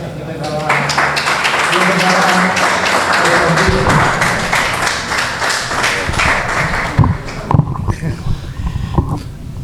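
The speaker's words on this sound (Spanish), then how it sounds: "Un aplauso para él." Audience applause at a foundation talk, dense clapping sustained for about seven seconds before thinning into scattered claps, with a low murmur of voices underneath.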